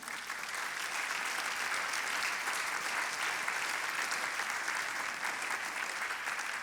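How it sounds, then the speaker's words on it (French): An audience at an awards ceremony claps for the event's partners, producing a continuous, uniform roar of many hands that stays level and unbroken throughout, with no speech over it. "Merci également à tous nos partenaires qu'on applaudit également."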